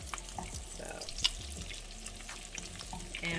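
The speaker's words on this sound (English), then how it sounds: "not gonna fry them all the way till they're done, but just enough so that I can get a nice crust" Steelhead trout fillets fry in a pan with a steady, low sizzle and soft crackle throughout, with a few small pops and light clinks on top, at moderate level.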